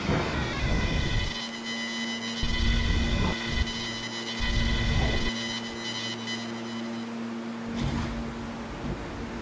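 An R143 Siemens subway train on the L line in a Roblox game runs steadily with a continuous rumbling roar and a sustained electric motor hum, with periodic clunks of wheels over rail joints.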